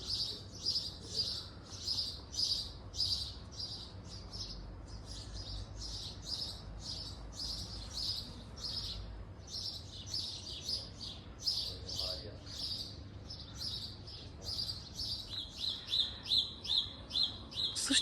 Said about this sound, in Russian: Слышите, как птичка поет?